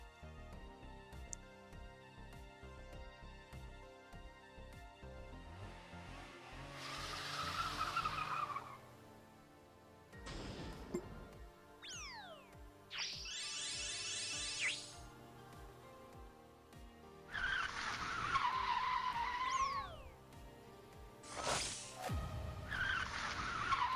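A race car in a video game skids with sharp, whining tire squeals that come in several separate bursts, some short and some long, between quieter stretches of engine noise and game sounds.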